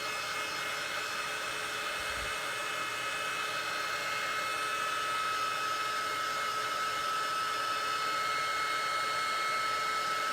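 A hair dryer blows steadily on a painted porch sign, a loud constant whirring roar that runs unchanged through the whole clip with no talk.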